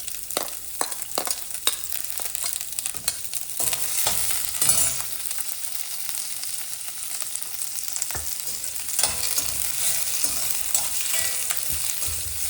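Onions and curry leaves fry in a pan for an Indian aloo gobi, a steady close sizzle running throughout with scattered crackles and stirring scrapes.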